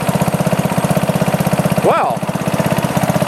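A Sears Companion garden tractor engine, started for the first time in seven years, chugs loudly and close with a rapid regular beat, briefly covered by a short spoken word.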